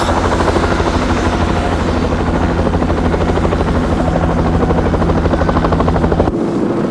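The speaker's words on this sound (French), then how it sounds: "des messages écrits sont largués par hélicoptère" A helicopter's steady rotor thrum and engine whine fill the air, loud and continuous, cutting off abruptly near the end.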